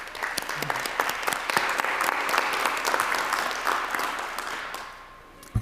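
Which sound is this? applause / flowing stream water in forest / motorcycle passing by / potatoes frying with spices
applause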